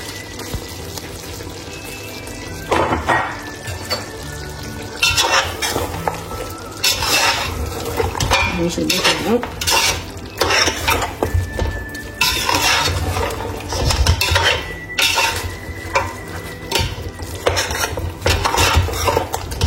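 Grated apple is stirred into a pot of lamb curry with a utensil, making repeated scraping and clinking strokes of varying loudness close by, over a wet, bubbling background.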